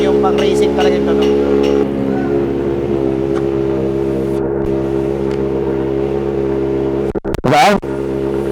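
Kawasaki ZX-4RR motorcycle fitted with a titanium racing exhaust, engine running close with a few quick revs at the start, then a steady drone under talking, ending in a sharp rising rev.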